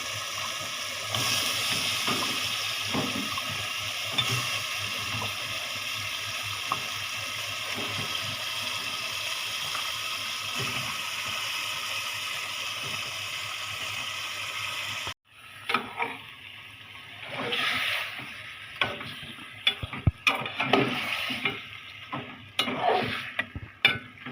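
Chicken meat goes into fried spices in a cooking pan, first under a steady hiss, then with uneven bursts of stirring, scraping and sizzling close by.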